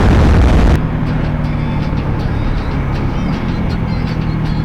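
A motorcycle fitted with a top box roars at speed with dense, steady engine and wind noise, a louder burst at the start settling into a constant high-speed drone.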